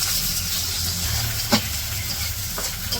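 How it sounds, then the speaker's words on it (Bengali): Onions and green chilies fry in oil in a wok, giving a steady, close sizzling hiss throughout with a faint clink or two from stirring. "তো পেঁয়াজ কাঁচামরিচ ভাজা হয়েছে"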